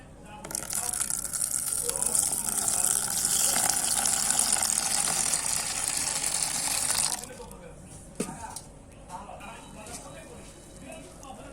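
A milk and yogurt mixture pours in a continuous gushing stream into a box for about seven seconds, then stops, followed by a light knock and quiet handling.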